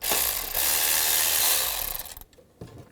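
Ratchet with a 10mm socket working a stud loose on a 2002-2009 Chevrolet Trailblazer exhaust manifold, a dense, loud stretch of rapid metallic clicking and rubbing that cuts out near the end, followed by a brief faint scrape.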